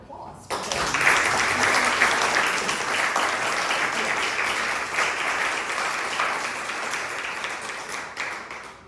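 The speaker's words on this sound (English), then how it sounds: "I think we owe our candidates a round of applause." A board of education candidates forum audience breaks into sustained applause that starts abruptly, holds dense and even for about eight seconds, then fades out.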